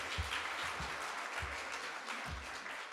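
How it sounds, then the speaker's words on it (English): A church congregation applauds during a worship service, a brief, steady patter of clapping that stays fairly faint and even for a few seconds. "I honestly wasn't going for applause, but that's good to hear."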